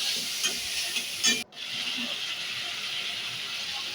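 Fried potatoes and ground spices stirred in a hot pan, steady soft sizzle and hiss with a few scraping stir strokes, one brief cut in sound midway, no talk.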